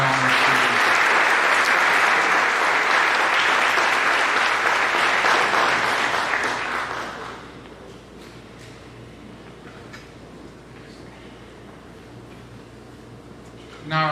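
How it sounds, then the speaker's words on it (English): Audience at a senior awards ceremony applauding high honor students, loud sustained clapping for about seven seconds that fades to a quiet hall, with a voice starting at the end. "Please give a nice round of applause for our high honor"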